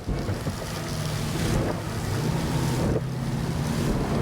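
A 2006 Sea Ray 220 Select motorboat with a 300 hp Mercruiser engine pushes through choppy waves, a constant engine roar mixed with splashing water and gusty wind buffeting the microphone.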